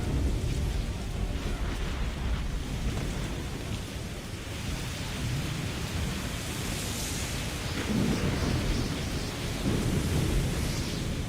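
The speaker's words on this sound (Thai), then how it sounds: "อุ้ยฟ้าผ่าก็มาเลย" Rolling thunder and a driving downpour fill a stormy sea scene in Assassin's Creed III, a continuous loud rain hiss with deep rumbles swelling near the end.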